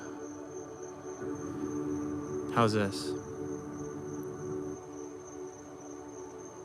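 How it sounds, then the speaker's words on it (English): Crickets chirp outdoors at night in a faint, constant high trill, while a person speaks briefly over them. "Yep, lots of crickets."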